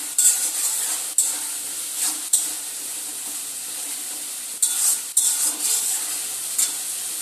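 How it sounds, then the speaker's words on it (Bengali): Masala paste for a crab curry stirred and fried in a pan, a steady close sizzle with repeated scraping strokes of a spatula and occasional metallic knocks, no talking. "খুব ভালো করে মশলাটাকে আমাদের কিন্তু কষাতে হবে"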